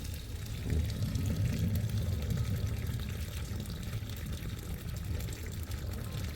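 Water pours steadily and noisily into a deep pipe in a DIY plant watering system, a continuous low gushing rush with no talk.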